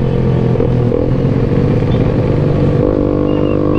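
A motorcycle rides along a straight road, its engine droning steadily and loudly up close with a constant rumble and a slight shift in pitch near the end.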